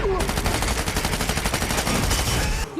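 Rapid gunfire from a shootout in the Daredevil TV series, a dense continuous burst of loud shots lasting nearly three seconds with no pauses.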